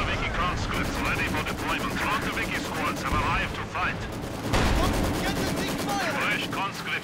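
Artillery and gunfire in the video game Company of Heroes 2, a loud, dense battle din of rapid machine-gun bursts and heavy booming blasts, with shouted voices mixed in.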